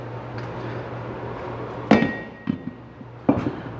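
A rusty front hub comes free from a Silverado 2500HD, giving three sharp metallic clunks and knocks, close and fairly loud, over a steady low workshop hum.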